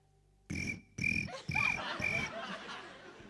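A man imitates a cricket's chirping with his voice, producing four rhythmic, shrill bursts about half a second apart, followed by a softer, trailing fluttery sound.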